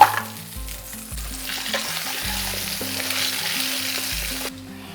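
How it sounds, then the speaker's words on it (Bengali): Potatoes fry in hot oil in a Bengali kitchen, a steady bright sizzle that fills the clip, with a low musical tone underneath before the sound cuts off near the end. "ওই তেলেই ভেজে নেব আলুগুলো"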